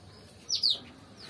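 Canaries chirp in an aviary with a single short, high two-note tweet rising out of a quiet, steady room background, faint and somewhat distant.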